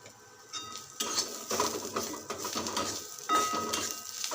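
Sesame seeds roast with onion in a pan for a village-style egg curry, with close scraping and stirring strokes, light clinks of a utensil and a faint sizzle, and no talking.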